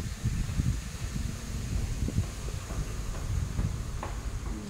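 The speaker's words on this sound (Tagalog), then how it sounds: "Gumagalaw yung mga dahon kasi ang lakas ng hangin guys" Strong wind stirs the trees at Bihu Lake Park, making a faint, steady rustle of leaves with low gusty rumbles of wind against the microphone.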